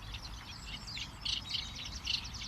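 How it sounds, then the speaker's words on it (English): A reed warbler, newly arrived from Africa, sings from a dense reed bed beside water, its scratchy, chattering phrases repeating in quick bursts over a steady low background hum, moderately close and with no voices. "I'm currently listening to a reed warbler that would have just arrived in from Africa"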